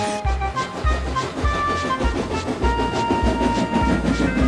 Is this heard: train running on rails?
yes